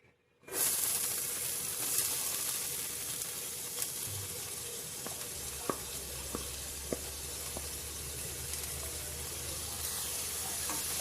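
Sliced onions with green chilli fry in oil over a medium flame for mushroom fried rice, a steady close sizzle that starts suddenly and carries on with a few faint clicks and pops, no talking.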